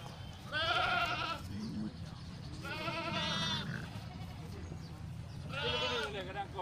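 A castrated male goat at an Indonesian livestock market ahead of Eid al-Adha gives three loud, wavering bleats a couple of seconds apart, with steady crowd and market murmur underneath.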